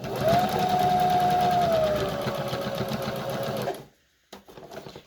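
A sewing machine stitches a fabric hospital face mask with bias tape sewn in, running steadily and loud for several seconds, slowing near the end, then briefly stopping before a few short bursts of stitching resume.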